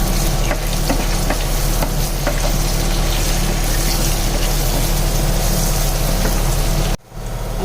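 Sliced onions fry with salt in a pan for a potato chicken curry, giving a steady, close sizzle with small crackles and stirring scrapes throughout, cutting out abruptly near the end.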